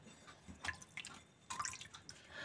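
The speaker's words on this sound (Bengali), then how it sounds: "তো কাপড়টাকে ভিজিয়ে নিয়েছি আমি" Water drips from a soaked cotton cloth in a few quiet, irregular drops and trickles over a couple of seconds, faint and close, with no talking.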